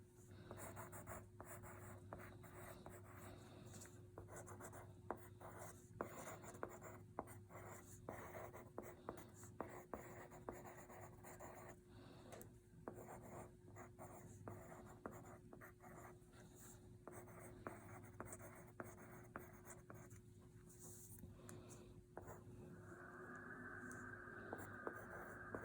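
Pen or pencil scratching steadily across paper as a final draft is handwritten, a continuous close, quiet scribble with small taps and strokes over a low steady room hum, no talking.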